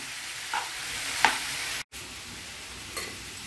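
Vegetables for veg rolls fry in a pan and are stirred, a steady bright sizzle with a few scraping strokes of the spoon and a brief dropout partway through; no voices.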